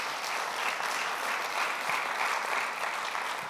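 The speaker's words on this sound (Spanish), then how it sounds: "¿Por qué no le da un aplauso a la palabra de Dios en este día?" A church congregation applauds, a steady, even wash of many hands clapping that fills the room for several seconds without voices over it.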